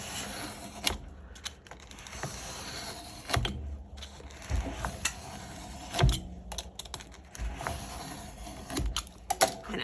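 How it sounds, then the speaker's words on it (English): A knife slices through the pages of an old thrifted book, producing quiet, irregular ticking cuts and papery scrapes with sharp little clicks scattered throughout, close up and alone. "So I'm gonna use my knife and we're just gonna start cutting some of these pages in"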